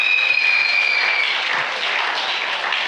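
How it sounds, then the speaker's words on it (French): A church congregation applauding loudly for the Lord during a sermon on living faith, a dense, continuous wash of clapping that stays steady throughout, with no voices on top. "Est-ce qu'on peut acclamer très fort le Seigneur?"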